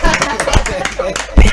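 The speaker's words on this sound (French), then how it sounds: "On l'applaudit." Brief applause from an audience, a burst of clapping over crowd noise, ending with a louder flurry of claps.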